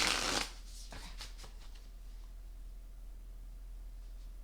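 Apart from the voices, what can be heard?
shuffling Astro Matrix tarot cards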